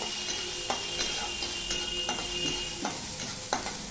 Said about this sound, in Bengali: আমি চালটা ততক্ষণ ফ্রাই করব যতক্ষণ না চালটা একটুখানি পোলাও চালের মতন হচ্ছে